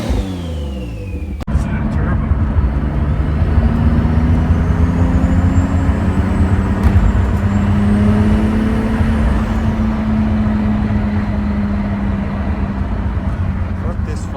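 A Nissan R33 GTR with an HKS crate engine driving on the street, a steady loud engine drone with rising and falling pitch as it pulls through gears, continuous and close throughout.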